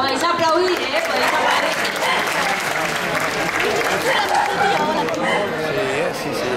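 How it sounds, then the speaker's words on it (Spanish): Audience applause at the Bestak 2022 event in Iturrama, a sustained wash of clapping from a large crowd with talking and cheering voices mixed in throughout. "Podéis aplaudir, ¿eh?"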